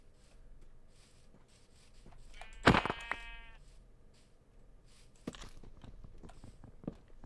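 Sheep in Minecraft give a single short bleat near the start, then soft footsteps and small game noises follow over a quiet background.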